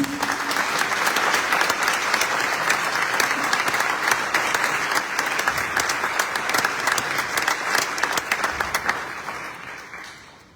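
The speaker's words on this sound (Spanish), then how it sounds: "Un fuerte aplauso para las declaraciones" Strong, dense applause from a crowd at a tribute event honoring Zelmar Michelini, a steady roar of many clapping hands for about ten seconds that thins and fades at the end.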